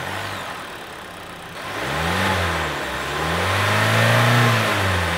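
Four-cylinder car engine running after a fresh set of spark plugs, starting low then revving up and down in rising, falling sweeps before settling into a steady, loud, close run, with no talk.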